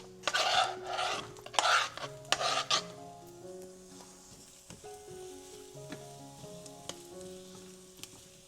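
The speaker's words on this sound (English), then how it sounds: "Our butter is nice and melted, so we are going to place our veggies right in." Vegetables dropped into melted butter in a pan start sizzling loudly, with several scraping stirs at first, then settle into a quieter steady sizzle with occasional light clinks.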